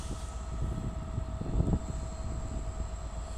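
A Class 390 Avanti West Coast train on the 1132 service to London Euston passes through Crewe on the West Coast Main Line, a low rumbling roar with a steady tonal whine, swelling briefly midway at a moderate distance.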